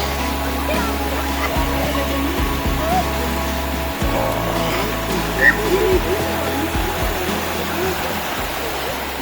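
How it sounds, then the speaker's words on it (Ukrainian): Steady broadband rush of falling water from a canyon waterfall fills the scene, continuous and fairly loud, with faint voices mixed in underneath. "а це водоспад вир, до речі, в якому ми будемо зараз купатись"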